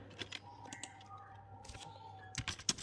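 Light keystrokes on a computer keyboard, entering a short Linux shell command: scattered soft clicks in small bursts, quiet and close, ending in a quick cluster of taps.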